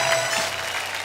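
A brief burst of audience clapping at a Nepali comedy club show, dense and fairly loud, fading slightly within about a second.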